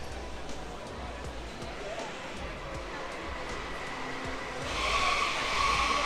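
Ford F-150 Lightning electric pickup trucks roar and whine around a track at a distance, noise building louder toward the end, with no talking.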